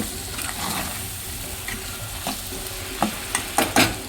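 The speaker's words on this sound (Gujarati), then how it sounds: "એને થોડી વાર આપણે શેકાવા દઈશું મસાલા તેલમાં" Methi and potato curry sizzling in spiced masala oil, with a steady frying hiss and occasional sharp spoon clicks and scrapes against the pan near the end.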